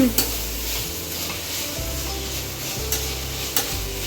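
Ginger garlic paste frying in a pan for paneer butter masala, with a steady loud sizzle and stirring scrapes throughout, plus a low hum underneath and a few sharp clicks of the spoon against the pan.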